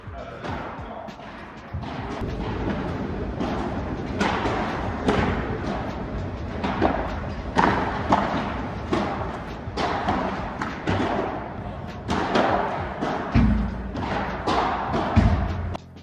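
Padel ball struck repeatedly during a tournament match rally, sharp thuds and pops in an irregular back-and-forth rhythm over steady court ambience, some hits close and loud, others softer.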